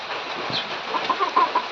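Chickens clucking nearby in short, soft, uneven bursts over a steady background hiss, briefly and without talk.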